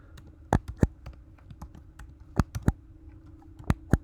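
Initials being typed on a computer keyboard: a sparse run of sharp key clicks, a few louder strikes among softer taps, close and alone over a faint room hum.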